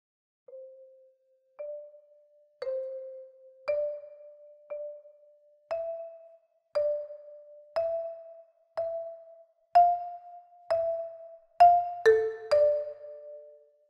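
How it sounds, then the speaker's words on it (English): A marimba plays a slow melody of sustained half notes, about a dozen single mallet strikes spaced evenly and ringing out one by one, with a few fuller struck notes near the end, clear and alone in a quiet room. "That would sound like this on the marimba."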